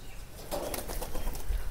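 Domestic pigeons flap down to land at a feeding spot, a burst of close wingbeats that thickens midway and keeps fluttering, with faint cooing in the background.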